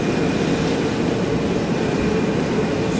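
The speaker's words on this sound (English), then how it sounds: "I got a couple of heaters going." A loud, steady blowing roar of space heaters fills a space housing a John Deere 8310RT tracked tractor, running at full power without pause, with no voices.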